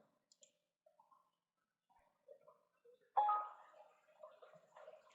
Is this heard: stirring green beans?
no